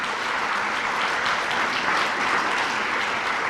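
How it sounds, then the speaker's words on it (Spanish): An audience at a Cross of Merit nomination ceremony in a hotel hall gives steady, dense applause, a continuous wash of many hands clapping at even volume with no talk over it. "Forte aplauso para vocês."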